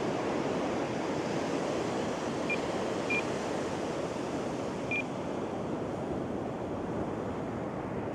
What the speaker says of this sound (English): here's that high tide coming in.